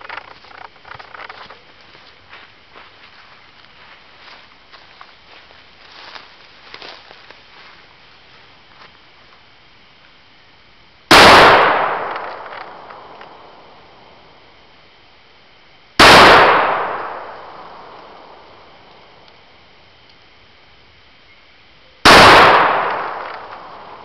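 A stainless steel S&W .460 revolver fires three loud, sharp shots several seconds apart outdoors, each with a long ringing decay, after a stretch of faint rustling and handling noise.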